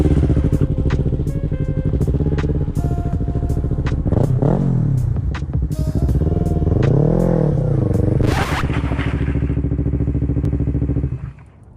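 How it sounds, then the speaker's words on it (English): A 2019 Yamaha R3 street fighter motorcycle with an M4 full exhaust system runs loud and close, its engine revving up and down in several swells before it cuts off near the end. "check out my brand new 2019 R3 Street Fighter"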